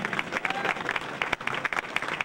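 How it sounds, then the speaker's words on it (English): A crowd applauds as Robert Ehrlich, reigning International Mr. Bootblack, comes onto the stage, producing continuous, fairly quiet clapping with scattered louder individual claps throughout. "Let's give Bob a nice round of applause."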